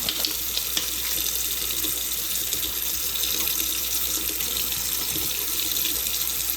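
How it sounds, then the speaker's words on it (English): Hot water running from a tap into a container, a steady, close splashing stream with constant hiss, uninterrupted and without talk. "So hot water going in"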